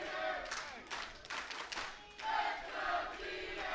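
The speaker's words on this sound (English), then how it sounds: "You hear the crowd soundly behind Jeter here in Covington, Georgia." A crowd at a professional wrestling event in Covington, Georgia cheers and shouts in loud, surging bursts, with broad swells of noise rising and falling throughout.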